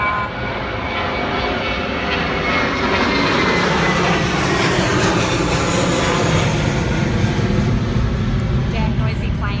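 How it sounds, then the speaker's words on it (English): Loud aircraft engines drone continuously overhead on the Greek island of Ikaria, a heavy, steady roar that swells slightly as a person talks beneath it. "yeah, noisy planes, can't hear shit"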